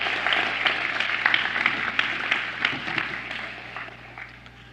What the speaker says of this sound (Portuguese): Vamos dar uma salva de palmas ao Bruno?